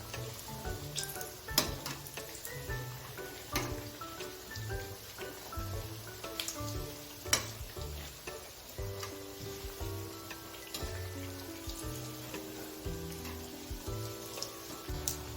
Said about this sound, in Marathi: बघू शकता तुम्ही आपले वडे गोल्डन कलरवर फ्राय झालेले आहेत